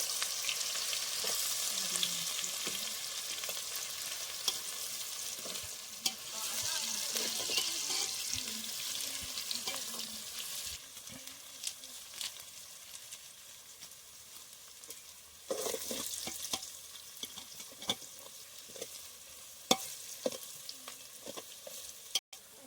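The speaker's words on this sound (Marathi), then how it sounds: "कांदा ढवळलेला जात आहे एकदम." Onion stirred and fried in hot oil for egg biryani: a steady close sizzle with repeated scraping and stirring strokes through the pan, rising and falling as the pieces are turned.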